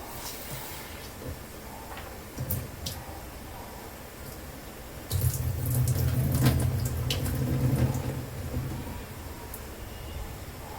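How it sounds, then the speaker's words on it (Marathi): Soaked lentils being rinsed clean in a kitchen, with light clinks and splashes at first, then water gushing steadily from a tap for several seconds, close and moderately loud. "आपण आता ही डाळ 3-4 पाण्याने स्वच्छ धुवून घेणार आहोत।"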